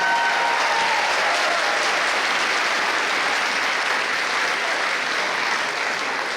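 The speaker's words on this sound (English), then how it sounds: "Let's give them a round of applause." Sustained audience applause fills a school assembly hall, dense and steady clapping from a large crowd that holds at an even loudness throughout.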